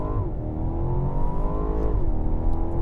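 A 2021 BMW Alpina XB7 launches hard from a standstill in Sport Plus mode, its engine roaring loud and steady, rising in pitch through a gear change, with no talk over it.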